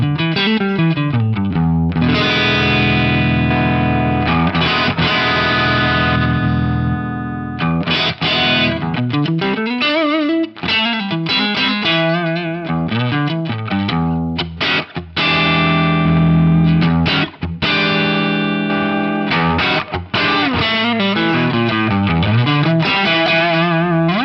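A heavily distorted electric guitar played through a multi-effects unit plays chords and riffs with a chorus-like shimmer, loud and continuous, alone without any talking.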